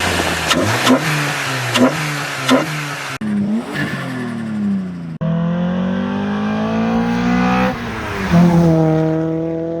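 Honda car with an aftermarket intake revs hard on throttle several times, the engine note rising and falling in sharp surges, then holding longer climbing pulls, loud and close with no talk.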